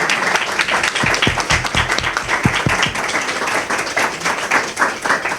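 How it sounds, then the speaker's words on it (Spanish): Steady, dense applause from an audience at a panel event on sex education, continuous and fairly loud throughout with no talking over it. "Un aplauso."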